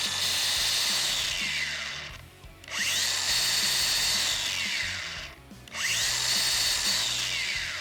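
DeWalt 60V Flexvolt cordless angle grinder run in three bursts, each a steady high whine spinning up, holding, then winding down quickly between runs, close and loud with no talking.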